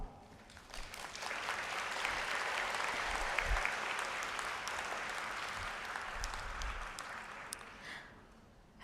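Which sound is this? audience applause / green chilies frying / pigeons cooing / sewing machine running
audience applause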